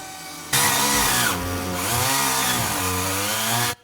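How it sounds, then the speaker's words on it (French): A chainsaw roars nearby, its engine pitch rising and dipping as it revs, then cutting off abruptly. "Vous avez pas entendu le bruit d'une tronçonneuse, là?"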